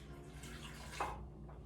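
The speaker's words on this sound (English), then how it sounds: "Once they're combined, we're going to go ahead and add our water." Water poured from a measuring cup into a bowl of combined flour and yeast for bagel dough, a short soft splash in a quiet kitchen.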